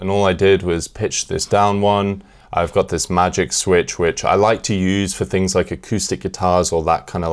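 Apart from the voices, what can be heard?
No everyday noises stand out.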